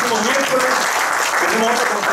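Audience applause at the close of a Spanish-language panel discussion on work in the 21st century: steady, dense clapping across the whole stretch, with voices audible beneath it.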